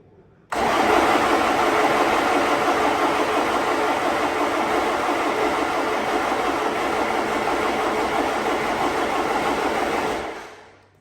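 A BMW M47 diesel engine with a Bosch VP44 injection pump cranks on the starter for about ten seconds without catching, a loud, steady, even churning that cuts off abruptly at the end.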